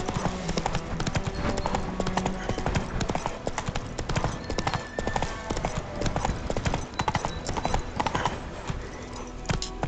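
Horse hooves clip-clopping in The Witcher video game, a rapid, continuous trotting rhythm close by, with a brief voice heard over the hoofbeats.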